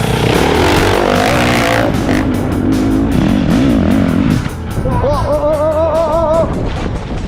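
A dirt motorcycle's engine revs hard and continuously while riding over rocks in rough off-road terrain, with pitch rising and falling as the throttle is worked, and the rider's clutch control is audible in the engine note; loud and close throughout.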